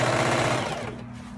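A sewing machine stitches a fabric facing onto a neckline, its needle running in a fast steady clatter close up, then slowing and stopping near the end.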